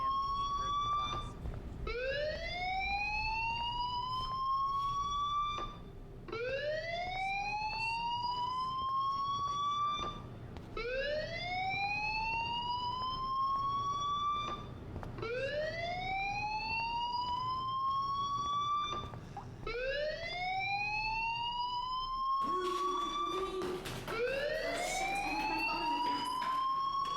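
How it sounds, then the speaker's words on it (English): A wailing fire alarm sounds in the video game Life Is Strange, a rising electronic tone repeating about every four seconds, loud and steady, with a burst of other noise near the end. "do you hear that fire alarm? That means you should be outside"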